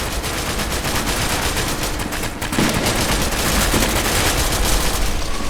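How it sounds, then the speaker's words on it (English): Rapid, dense bursts of revolver gunfire in the video game SCP: Secret Laboratory, the weapon fitted with a stock, loud and continuous across the whole stretch with no talking. "my brain is like being numbed every time I shoot this revolver with the stock"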